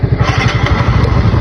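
A fuel-injected NS125 motorcycle engine catches on a push start and runs close and loud with a steady, rapid low throb, alone with no voices.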